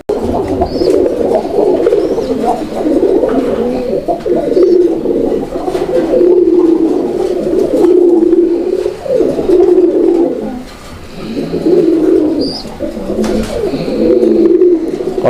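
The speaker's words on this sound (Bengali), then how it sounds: "ডাকের কোয়ালিটিটা দেখছেন একদম মানে একদম ইউনিক ডাক" A domestic Raj-Golla pigeon cooing up close, loud repeated rolling coos in a steady rhythm with brief pauses between phrases.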